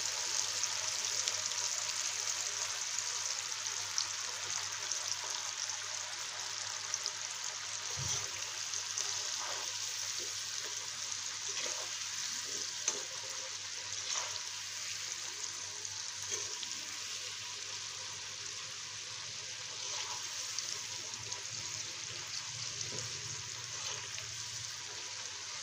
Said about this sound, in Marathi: मंद आचेवर जरा तळून घ्यायचं आहे. गॅस लो टू मिडियम ठेवायचा.